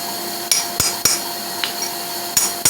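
Steel being struck with a hammer while forging a simple toilet-paper roll holder, pushing metal around to form a screw countersink; a handful of crisp, close metallic hits at irregular spacing.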